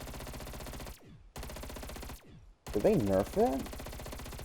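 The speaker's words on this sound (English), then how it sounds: "Recoil on the FFAR is not so great." Rapid automatic fire from the FFAR rifle in a Call of Duty zombies match on Die Maschine, a dense mechanical burst stopping twice briefly, with a voice speaking over the final stretch.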